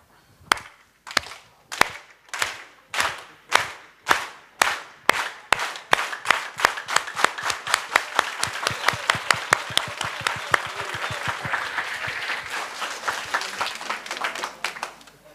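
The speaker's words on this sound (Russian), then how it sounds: "How to clap the right way." Hands clap in unison at a seminar, starting as slow, evenly spaced single claps, then speeding up steadily until they blur into a fast, continuous rhythmic clatter.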